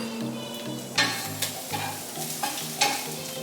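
Onions sizzling and caramelizing in a hot pan, a steady close frying hiss broken by several sharp stirring scrapes and clinks, with no talk.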